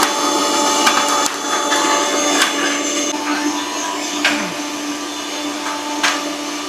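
A mixer grinder whirs loudly and steadily throughout as it blends masala with a little water, a continuous motor roar with a few brief clunks.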